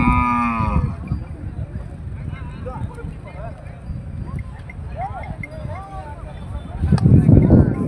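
Working bullocks low at a busy cattle market, a long deep moo opening the scene and more calls rising through steady crowd chatter, with people talking nearby throughout.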